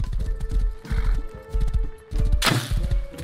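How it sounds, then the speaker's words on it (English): Horse in the survival game Rust, with steady clip-clopping hooves and a loud whinny near the end, close by and with no talk over it. "Oh, free horse."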